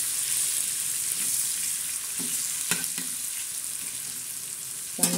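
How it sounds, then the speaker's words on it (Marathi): Salt is stirred into a sizzling tadka tempering in a pan for a tawa-fried bitter gourd dish. A steady frying hiss runs throughout, broken by a few sharp spatula scrapes and taps. "आता त्या तडक्यात आपण मीठ टाकलं आणि असं तडका चांगला हलवून घ्यायचा."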